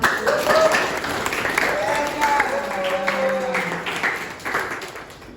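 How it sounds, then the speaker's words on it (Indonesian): A class of ninth-grade students applauds in a classroom, steady clapping lasting several seconds with children's voices and chatter mixed in over it. "tepuk tangan"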